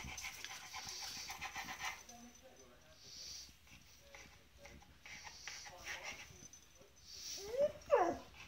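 A pet dog pants in quick, breathy bursts close by, with soft sniffs and a brief whimper near the end, while a person's voice speaks on and off over it.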